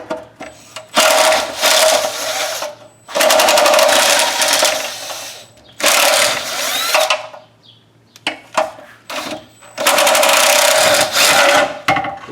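A 1/2-inch bolt being run out with a power tool at the crossmember transmission mount of a Jeep Cherokee, several loud whirring bursts of a few seconds each separated by short pauses, close up with no talk.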